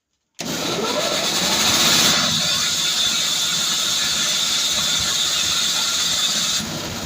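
An air compressor pump driven by a 7.5 kW motor on one belt kicks on and runs steadily with a loud, whirring, rattling drone, close by and continuous.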